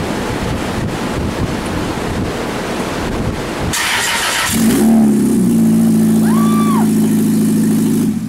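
Loud broadband roar cuts off, then a Dodge Stratus engine running without exhaust catches and settles into a steady, rough idle with a deep throbbing hum, close and unmuffled.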